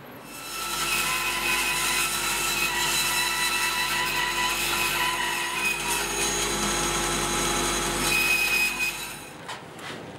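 A power saw cuts wooden strips for an end-grain butterfly cutting board, a steady loud whine with a constant tonal hum lasting about nine seconds before winding down abruptly.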